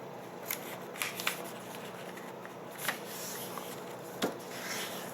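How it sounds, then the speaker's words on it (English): Paper being creased and folded for a seagull paper airplane: soft rustling with several brief crisp crackles and snaps, close and fairly quiet, with no voice. "we're going to take this bottom half and then we're going to fold it right to the center crease"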